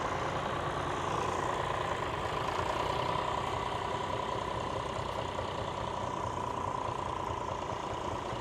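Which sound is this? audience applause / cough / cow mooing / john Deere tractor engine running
john Deere tractor engine running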